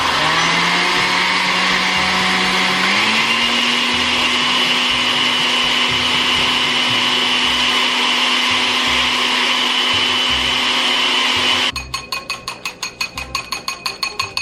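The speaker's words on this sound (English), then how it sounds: "so I'm going to blend it" Countertop blender whirring loud and steady while blending a thick iced Starbucks-style coffee drink, the motor pitch rising early on, then shifting near the end into a rapid pulsing chop.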